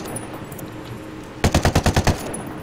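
A rapid burst of about eight automatic gunshots in the video game Ghost Recon Wildlands, sharp and evenly spaced, cutting in over a quiet game background.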